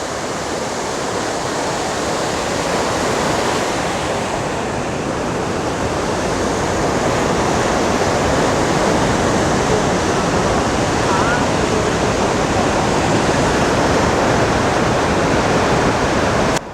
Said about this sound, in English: another stream here with another pretty spectacular waterfall.